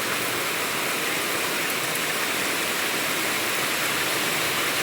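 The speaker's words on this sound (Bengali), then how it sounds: "কি সুন্দর বৃষ্টি হচ্ছে।" Heavy rain pours down in a steady, dense roar that fills the whole stretch without a break, loud and close, with no voices over it.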